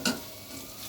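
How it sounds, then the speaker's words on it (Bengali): Chopped garlic poured into hot oil makes a short burst of clatter as it lands, followed by a soft, steady sizzle. "রসুনের কোটাগুলো এখন ঢেলে দেবো।"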